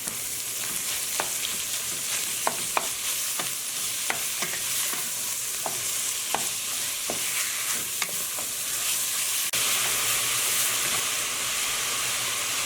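Lamb mince and onion sizzle steadily in a hot frying pan, a continuous close hiss broken by repeated sharp clicks and scrapes of stirring, with no talking.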